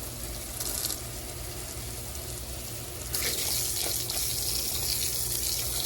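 Steady water flowing from a hose to rinse the screens and drain of a rooftop deck, a continuous close rushing splash that grows louder and hissier partway through, with no voices.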